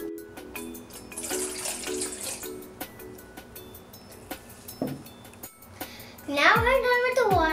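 Water pours and splashes into a bowl for chocolate wheat cupcake batter, in an intermittent trickle. Someone talks over it, and a louder burst of voice and clatter comes near the end.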